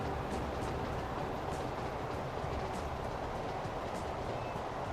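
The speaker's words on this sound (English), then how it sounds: "There are so many trains flying around." Trains in the railway-building game Transport Fever rumble and clatter steadily through a busy distribution hub, a continuous dense rolling noise with faint high squeals and no speech.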